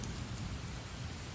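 Continuous rain falls in a dense, even wash with a deep rumbling low end like a distant storm, a brief unbroken stretch with no talking.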